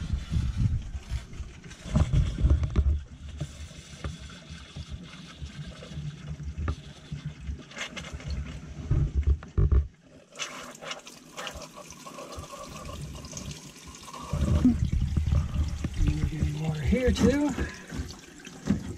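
Water runs from a bathroom faucet in a 2020 Coachmen Beyond RV, a steady close splashing flow that stops briefly midway and then resumes more strongly, with gurgling toward the end.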